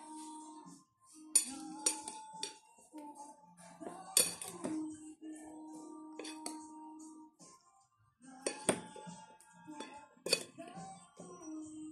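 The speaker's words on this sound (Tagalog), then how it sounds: "And then, haluin natin," A utensil stirs a Filipino cucumber salad (ensaladang pipino) dressed with plenty of vinegar, giving soft irregular clinks and taps against the bowl, with a voice talking quietly in between.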